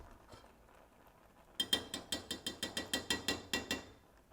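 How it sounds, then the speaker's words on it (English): A stove knob is turned to switch off the heat under a pot of sweet potato and taro dessert soup, giving a quick run of about a dozen crisp ratcheting clicks after a quiet lull. "Now we turn off the heat."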